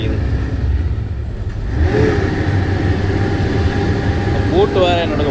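A vehicle engine labours steadily up a mountain road near Thoppur in fourth gear, a continuous mid-pitched drone and whir heard from inside the cab with a voice talking over it.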